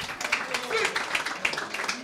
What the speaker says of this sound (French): applaudissements pour Joe, s'il vous plaît